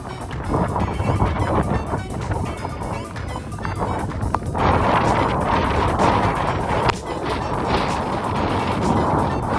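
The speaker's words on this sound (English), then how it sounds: "Very windy." Strong wind roars and buffets steadily against the microphone, with faint rattling and creaking mixed into the constant rushing noise.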